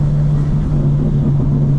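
A tuned 2025 BMW M4 Competition xDrive in all-wheel-drive sport mode drives along, its engine a loud, steady low drone with a strong constant hum heard from inside the cabin.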